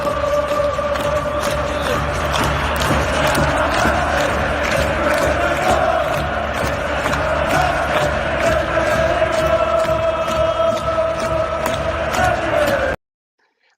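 Football intro footage with a large stadium crowd roaring and clapping, a dense continuous wall of cheering with scattered claps and chants at constant loudness, cutting off abruptly at the end.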